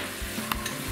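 Sofrito sizzling steadily in a pan as pepper goes in, a close continuous fry with a couple of brief scrapes or taps partway through.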